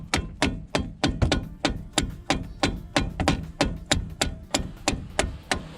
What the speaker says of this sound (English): I like to use a rubber mallet to tap on this thing with